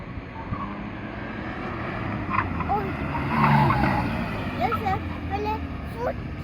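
Cars race through an autocross course in Arendal, where the field includes BMWs and Porsche 996 GT3s. Steady engine roar carries brief tire squeals, and voices chatter in the background throughout.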